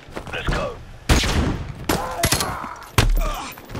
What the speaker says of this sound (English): Oh, I shot him by accident